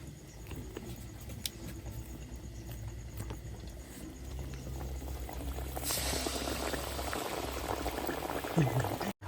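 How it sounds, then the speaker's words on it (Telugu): Palm fruit garelu fritters fry in hot, fully boiling oil with a continuous bubbling sizzle close up, swelling slightly louder toward the end. "ఆయిల్ చాలా బాగా మరిగింది కాబట్టి మనం ఫట్ఫట్లాడుతా"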